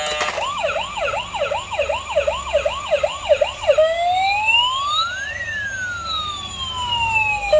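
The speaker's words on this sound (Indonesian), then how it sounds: "sirinenya sangat keras" A loud police motorcycle siren in Marvel's Spider-Man 2 whoops in fast repeated rising yelps, then switches to a slower wailing tone that sweeps up and down, close and alone.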